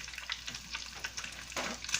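Hawaiian ham and cheese rolls fry slowly in a pan, giving a soft, close crackling sizzle with small pops and a brief stirring scrape.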